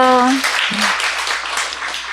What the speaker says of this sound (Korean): 우리 꿈나무들 박수해 주세요